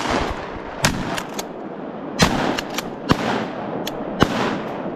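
Shotgun blasts ring out during a public-land duck hunt in Arkansas, several sharp sudden reports spaced irregularly over a few seconds against open outdoor ambience.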